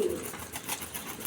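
Local Rajshahi giribaz high-flying pigeons coo softly in a loft, a brief low murmur close by, with no talking.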